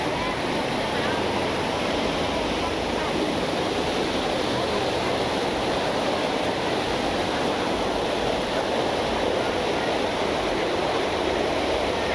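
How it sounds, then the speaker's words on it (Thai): A waterfall beside a forest stream at Khao Yai, Thailand, gives a steady, close, full-bodied rushing roar that never lets up across the whole stretch. "เดี๋ยวให้ได้ยินเสียงน้ำตกหน่อยนะ"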